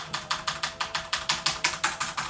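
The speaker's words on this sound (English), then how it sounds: "That is the worst ever possible sound that a keyboard can make." Fast, regular clacking of a mechanical keyboard with clicky Outemu blue switches and stabilizers, about a dozen loud crisp keystrokes in a steady rhythm, close up.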